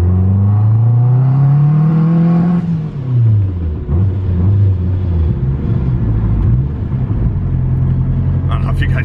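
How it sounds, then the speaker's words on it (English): A turbocharged all-wheel-drive Honda Civic pulls hard in second gear, its engine note rising steadily, dipping briefly, then climbing again as a loud close in-cabin drone, with a voice talking over it. "I'm going to slow down here and just give it a second gear pull."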